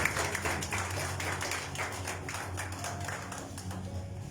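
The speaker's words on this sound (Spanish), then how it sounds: "Denle un aplauso al que vive por los siglos de los siglos." A church congregation claps together, a faint, steady patter of many hands lasting several seconds with no voices over it.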